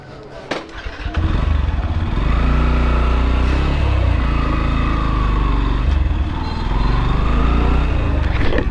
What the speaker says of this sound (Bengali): আমি রনি ভাইয়ের বাইকটা রাইড করবো